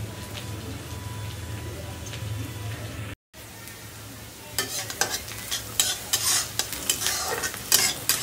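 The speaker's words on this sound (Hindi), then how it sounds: "बहुत ज़्यादा इसे पकाना नहीं है, आधा फ्राई हो गया है।" Ingredients for Bihari dal pitha, with potato, are stirred and fried in a pan, a low hum giving way after a brief cut to a bright crackling sizzle and repeated scraping of the spoon, close up and with no talk.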